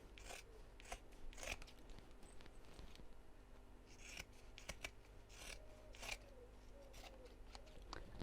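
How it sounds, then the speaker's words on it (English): Scissors trim the fabric seams of a sewn dog treat bag, a series of close, crisp snips and rasping cuts in an irregular rhythm. "now I'm going to trim these seams back a little bit"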